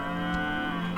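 A cow moos once in Dragon Quest VIII, a steady low tonal lowing with rich harmonics that holds for about a second over faint game background sound.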